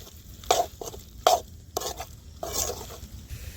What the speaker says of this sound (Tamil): ஒரு 2 நிமிஷம் இந்த மாதிரி நல்லா கலந்து விட்டுக்கோங்க.